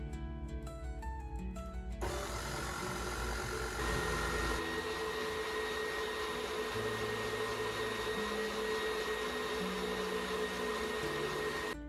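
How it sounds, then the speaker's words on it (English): An electric mixer whips cream toward butter with a steady, droning motor whir that runs unbroken after a short stretch of music at the start. "it's been whipping for about 5 minutes now"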